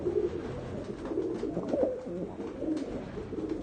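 Pigeons of several breeds, including double-roller types, coo in a loft, a continuous low murmuring chorus at moderate volume with no talk.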